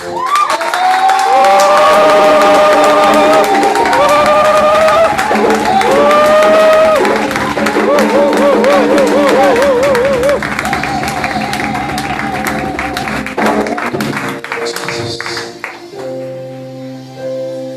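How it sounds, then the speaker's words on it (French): A large church congregation cheers, whoops and claps continuously and loudly, with shouting voices mixed in, easing off toward the end. "Est-ce que tu peux donner une offrande d'acclamation à Jésus?"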